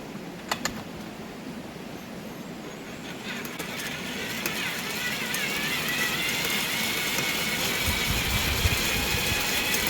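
A homemade wind turbine generator spins up on a test run, giving a steady, rising mechanical whir with rattling, ratcheting clicks that grows gradually louder over the span, with no talking.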